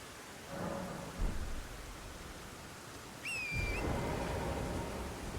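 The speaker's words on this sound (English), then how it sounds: "the file size is gonna build up massively, entirely because of the rain and just the rain" Steady rain hisses over an outdoor scene in the video game Elden Ring, and low thunder rumbles in two separate swells. A brief high, whistling tone sounds near the middle.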